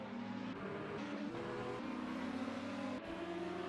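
GT race cars at Fuji circuit, engines droning and shifting pitch as they accelerate through gears, a steady mid-distance roar with no one talking.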